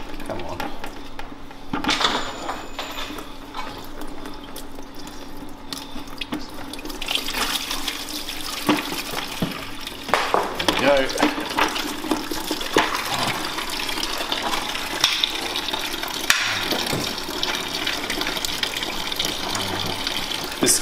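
Water gushes and splashes as it drains out of a reef aquarium protein skimmer, still holding about three liters, after its bottom union is opened. The flow is steady and close, with intermittent handling noises and someone talking over it.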